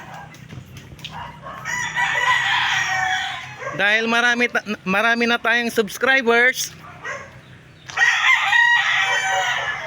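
A rooster crows loudly nearby at a chicken farm between stretches of clucking and farmyard noise, while someone speaks over part of it.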